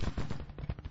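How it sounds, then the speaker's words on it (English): Massed musket fire in the strategy video game Grand Tactician, a brief, fairly faint crackle of overlapping rapid shots from a distant battle line. "It looks like they're firing at 1st Brigade."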